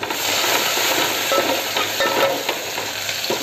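Garlic, curry leaves and a little onion frying in hot oil for a Malvani chickpea curry, a loud, steady close-up sizzle with stirring scrapes and no talking.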